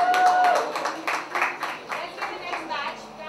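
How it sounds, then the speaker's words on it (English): Applause from an audience at a winners' announcement, a run of quick, steady claps under a voice that speaks over the start and keeps going beneath the clapping. "Give them a round of applause."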